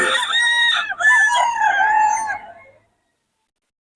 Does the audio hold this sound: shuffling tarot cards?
no